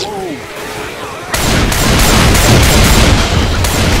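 Dense, loud gunfire from the zombie shooter game Left 4 Dead 2 erupts after a quieter opening, with rapid repeated shots and booms continuing to the end while players talk over it.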